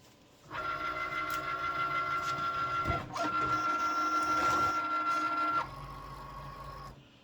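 A Cricut cutting machine draws a cutting mat in for a T-shirt design job, giving a steady mechanical whir with a brief pause midway and a lower motor hum toward the end, close by with no talk.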